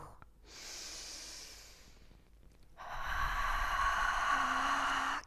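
Heavy breaths during an abdominal crunch workout: a soft exhale first, then a louder, sustained forceful breath out after a pause, close to the microphone, with no talk.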